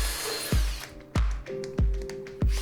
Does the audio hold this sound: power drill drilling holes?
yes